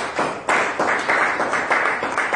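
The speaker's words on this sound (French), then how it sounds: "Donnez une acclamation" A church congregation bursts into applause during a Sunday sermon, loud, continuous clapping that swells in repeated waves across the whole moment.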